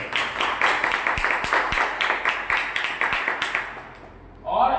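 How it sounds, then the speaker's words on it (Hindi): An audience at a Delhi-area gathering claps loudly in an even, rhythmic beat for about four seconds before the clapping stops and a voice resumes. "जोरदार ताली बजाओ"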